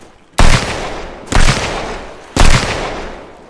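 Three loud, sharp gunshots from the video game Sunkenland, spaced about a second apart, each cracking sharply and then trailing off in a short echoing decay.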